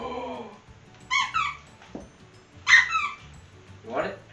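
A plush squeaky dog toy from a subscription box is squeezed in a few short, high squeaks spaced over a few seconds, close and fairly loud, with a faint low voice between them.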